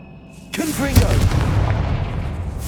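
A Confringo spell blast in Hogwarts Legacy during a troll fight: a voice speaks, then a heavy, booming impact hits and leaves a rumbling tail.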